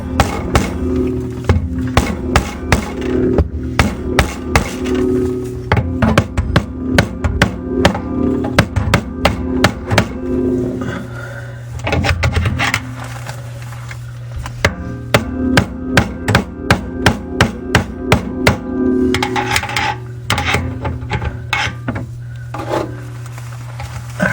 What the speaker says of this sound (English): I should be able to bang it home from this angle